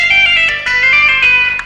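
Electric guitar playing a quick rock lick of hammer-ons and pull-offs with distortion and effects, notes flowing smoothly together, loud and close with no voice.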